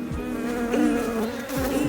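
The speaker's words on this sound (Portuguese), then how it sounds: "Lá ver se conseguimos ver aqui abelhas a nascer" Honeybees swarming over the brood comb of an open hive, a dense close buzzing drone with individual wingbeats darting in and out, nothing else heard.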